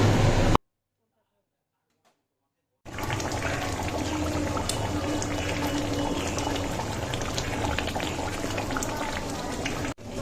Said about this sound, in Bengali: এই যে ডিমের ঝোলটা ফুটছে